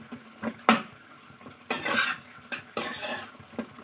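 A spoon scrapes and clinks against a pan as soybean curry is stirred, in several sharp metallic knocks and short scraping bursts close by, with a faint sizzle underneath.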